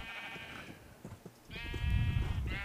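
Sheep in the video game Minecraft bleat twice, close and clear, with brief soft knocks in between.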